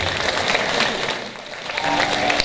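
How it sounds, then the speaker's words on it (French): Audience applause for a contestant at a cosplay competition at a LAN event fills the room, a dense clapping that dips briefly in the middle, then swells again and keeps going. "je vous demande un tonnerre d'applaudissements"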